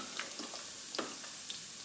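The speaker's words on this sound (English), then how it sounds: "I'm just gonna fry the mushroom." Mushrooms frying in a pan on an Aga-style range, a faint continuous sizzle with scattered small pops and light ticks, no voices.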